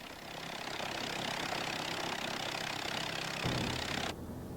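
Ford automobile engine with a radiator, fitted to a Pietenpol homebuilt airplane, drones steadily at close range with a low, continuous rumble and no talk over it.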